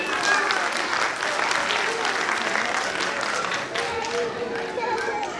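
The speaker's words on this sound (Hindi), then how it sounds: "प्लीज़ उनका तालियों से स्वागत कीजिए" Audience at a school annual function applauds continuously and loudly, dense clapping from a crowd with some murmured voices mixed in throughout.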